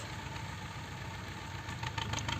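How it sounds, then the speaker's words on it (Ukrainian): A steady low tractor engine rumble idles continuously in the background as it drives back and forth near a lakeside fishing spot in October, with a slightly louder surge toward the end, no talking. "десь взявся на мою голову отой трактор, і тут вже їздить дві години взад-вперед"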